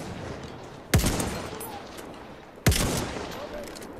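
Two loud, sharp rifle shots from the Battlefield 1 multiplayer game, about two seconds apart, each followed by a short echoing tail over low background battle noise.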